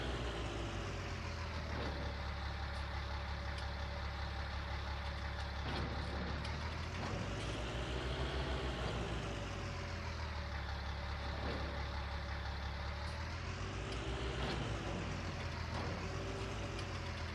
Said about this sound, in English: I think we're going to want to get this tractor fueled up for tomorrow also.